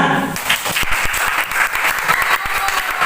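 A school classroom claps for a student named Parisa, steady dense applause from a group of pupils filling the room, fairly loud and close with a few sharper individual claps standing out.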